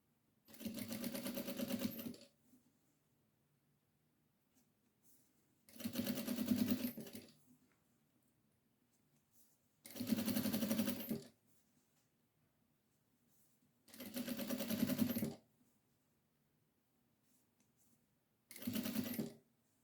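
A sewing machine stitches a hem on a small cloth bib in five short, even bursts of rapid whirring, each about two seconds long, separated by quiet pauses.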